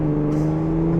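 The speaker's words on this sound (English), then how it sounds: "Gosh, you put the pedal down, it just immediately kicks up." A 2025 Ford Bronco Raptor in normal mode pulling hard at part throttle, its engine a steady, loud drone with strong low harmonics, heard close from inside the cabin without talk.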